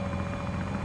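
Helicopter in a video game, a steady rotor drone with a low rumble, brief and continuous, with no voices.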